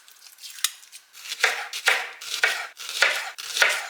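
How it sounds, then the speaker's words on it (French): A knife slicing a peeled yellow onion into thin slices on a board, a series of about seven crisp, close chopping strokes at an even, unhurried rhythm, with no talking. "je vais venir évidemment l'éplucher et ensuite le couper en fines tranches"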